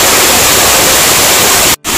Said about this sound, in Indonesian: Sampai sudah sini air terjun kedua.